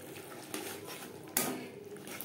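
A spoon scrapes and clinks in a pan of simmering fish curry gravy as garam masala powder is stirred in, with two sharper metallic knocks over a soft bubbling background.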